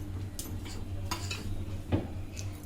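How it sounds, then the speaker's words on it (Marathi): Whole spices dry roasting in a pan: cinnamon, cloves, black pepper, fennel and poppy seeds, with soft scraping and stirring clinks and faint crackle, close and fairly quiet. "परत दालचिनी, लवंग, काळी मिरी, बडीशेप आणि खसखस, हे सगळे वस्तू पहिले मी भाजून घेणार"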